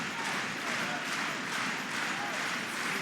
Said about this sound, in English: The crowd is back.